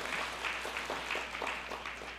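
A church congregation applauds together, steady dense clapping from many hands that holds at an even level for the whole moment, with no voices on top.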